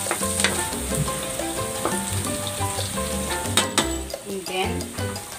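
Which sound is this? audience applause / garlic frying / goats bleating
garlic frying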